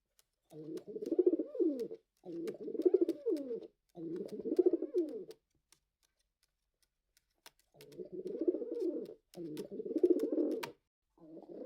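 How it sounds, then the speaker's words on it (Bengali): Pet pigeons cooing at home, clear repeated low throaty coos in long rolling phrases, six bursts with a pause in the middle, close and distinct with light ticking in the background. "আমাদের পোষা কবুতরের এই মুহূর্তগুলো আপনাদের সাথে শেয়ার করতে পেরে"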